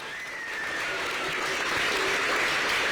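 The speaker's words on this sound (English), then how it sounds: "Another round of applause to our young musicians here." A crowd at an elementary school event applauds young musicians, clapping swelling in the first half second and then holding as a dense, steady roar, with faint cheers and a whistle-like tone threaded through.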